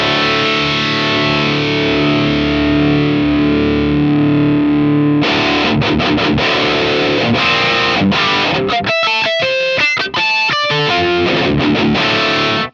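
An electric guitar runs through an Abasi Pathos distortion pedal with the mids boosted: a held heavy chord rings out, then tight palm-muted chugs and stabs with brief gaps, loud and up front.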